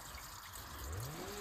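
Pumped water from a DIY surface well pouring into containers, a faint, steady trickle and gurgle, with a rising filling tone toward the end.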